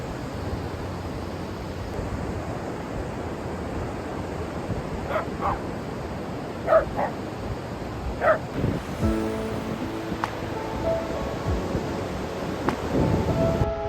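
Dogs barking at the beach at Morro Bay, a few short barks spaced out amid steady surf and wind noise, moderately distant.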